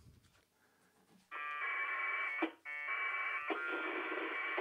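A radio transmitting an SMS text message gives a loud, steady, buzzing data tone with a harmonic-rich warble, broken by a brief dropout, close and alone without speech.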